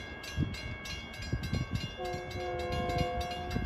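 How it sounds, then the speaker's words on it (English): An LIRR M7 electric commuter train, train 2068 bound for Ronkonkoma, approaches at speed past Pinelawn, with a rumbling, clattering run of wheels and a sustained horn blast sounding over it, heard from trackside at moderate distance. "here he comes, the Ronkonkoma Rocket, train 2068"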